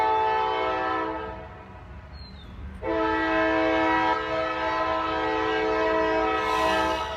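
A train passes close by, sounding its horn in long, loud, sustained blasts that pause briefly and then resume with rumbling rail noise beneath, with no talk over it.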